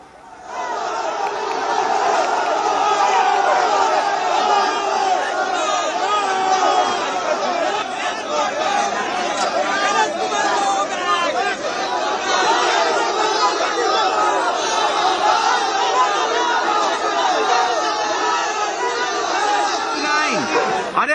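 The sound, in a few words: protesters chanting 'go back' slogans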